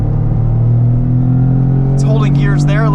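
A 2025 Toyota GR Corolla with automatic transmission holds third gear on a track, its engine droning loud and steady under a voice, with tire squeal in the final second.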